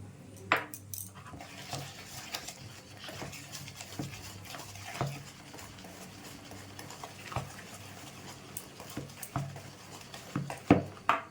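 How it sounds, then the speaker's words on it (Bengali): A spoon stirs cupcake batter with milk in a tea cup, giving light, repeated scraping and clinking taps at an irregular pace, close and fairly quiet, with no talking. "ভালো করে মিশিয়ে নিতে হবে"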